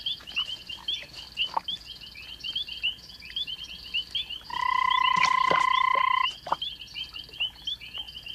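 Around forty frogs gather at a communal foam nest at night in Africa, a dense chorus of rapid repeated croaks and chirps with a loud sustained tonal call rising midway.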